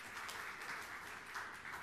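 Applause from a church congregation during a sermon, a faint, dense wash of many hands clapping that holds steady through a short stretch, distant and without voices.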